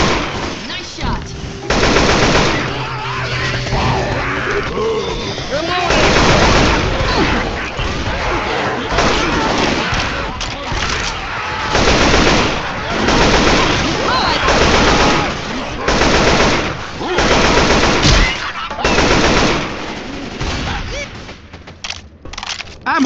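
Rapid gunfire in Left 4 Dead 2, loud sustained bursts of automatic shots repeating throughout, with character voices calling out over the shooting.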